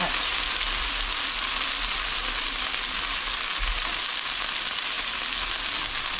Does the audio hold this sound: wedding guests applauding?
no